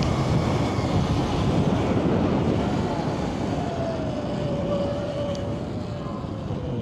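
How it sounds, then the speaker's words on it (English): Strong wind roaring across the microphone during a fast ride on an electric motorcycle or unicycle, loud and continuous with a faint rising whine underneath. "It is so windy."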